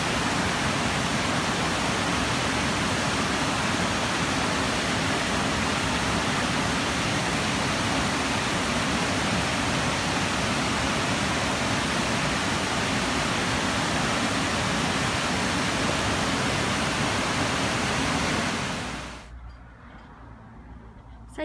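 A waterfall roars as a dense, steady broadband rush close by, unbroken for most of the stretch before cutting away abruptly near the end to a much quieter background.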